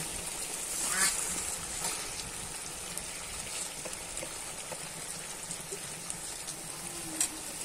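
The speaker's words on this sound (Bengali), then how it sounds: "তো এখন এটারে ভালো করে নেড়ে মিক্সড করে দিতে হবে।" Rice and lentils being stirred in a pot for khichuri, a steady sizzle with scraping stir strokes throughout, moderately close and continuous, with no talk over it.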